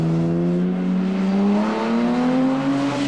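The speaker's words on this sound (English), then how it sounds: "Number 46, that's the Jaguar E-Type of Harry Windham" A Jaguar E-Type races in the 1998 Aston Martin Owners Club Anglo American Challenge, its engine note loud and steady as it climbs in pitch while accelerating past, with no talk over it.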